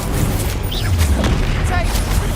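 An Incendio fire spell is cast in Hogwarts Legacy, giving deep booming bursts and crackling blasts in quick succession, with a voice speaking over the noise.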